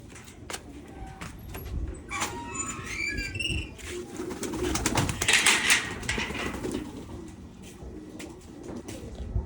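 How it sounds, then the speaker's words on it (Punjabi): Pigeons in a net cage call and coo nearby with some chirps and wing flutters, a steady outdoor background underneath. "ਚਲੋ ਹੁਣ ਆਪਾਂ ਦਿਖਾਣੇ ਜਾਲਾ 'ਚ ਪਾਏ ਹੋਏ ਕਬੂਤਰ"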